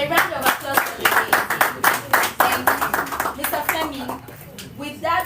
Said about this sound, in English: Please, a round of applause for the lady